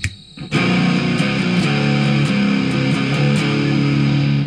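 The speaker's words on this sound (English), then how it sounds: "So it depends if you want a full-on whacked out distortion or if you want it a bit tamed" An electric guitar is played through a homemade distortion pedal built on a breadboard, inspired by the Sunn T amp: after a brief quiet start, a thick, heavily saturated chord rings out loud and sustained, with a few re-struck notes.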